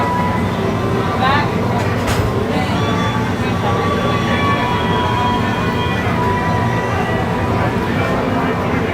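A monorail-style park train rumbles at the Magic Kingdom station at close range, a steady loud drone with brief squeals, while people chat nearby.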